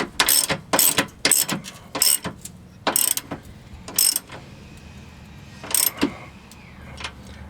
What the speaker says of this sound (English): Tighten it all the way so it's metal on metal.